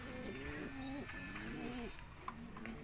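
Pigeons in a loft give repeated low, rolling coos, several phrases in quick succession close to the listener, over a steady background hiss.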